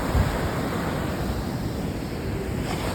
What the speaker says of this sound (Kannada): ಅಲೆಗಳ ಸೌಂಡು ಸೂಪರ್.